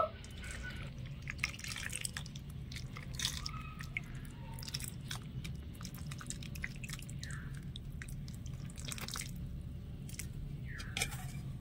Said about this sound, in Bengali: এবারে এই গরম গরম চিনির রসটা আমি এই পিঠেগুলোর মধ্যে নিয়ে নেব।